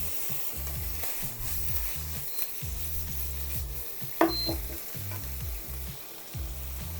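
Chicken liver sizzling steadily in a pan, close and fairly quiet, with bursts of frying crackle, a stirring rhythm and one sharp utensil clink.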